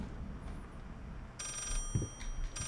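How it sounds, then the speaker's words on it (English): An old-style telephone bell rings in a quiet, eerie house scene in the horror game Layers of Fear, a short burst of trilling rings at moderate volume with faint ambience and a soft thud. "the phone keeps ringing, but I don't see any clues or whatever"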